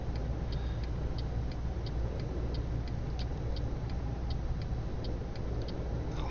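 A truck in Euro Truck Simulator 2 overtakes traffic on a steady, droning engine rumble, with a regular, faint clicking ticking along above it the whole time.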